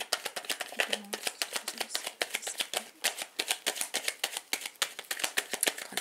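Tarot cards are shuffled in quick, crisp riffling bursts, a dense run of sharp papery flicks close up and fairly quiet, with no talking.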